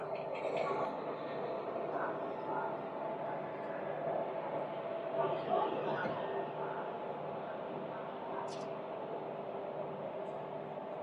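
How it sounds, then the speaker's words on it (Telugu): An electric WCAM3 locomotive from the Kalyan shed hauls the Deccan Queen Express through the Western Ghats between Pune and Mumbai, giving a steady rumbling train noise with rail clatter that holds evenly throughout, with no talk. "మన లోకోమోటివ్ అయితే వచ్చేస్తుంది. కళ్యాణ్ షెడ్కి సంబంధించిన లోకో"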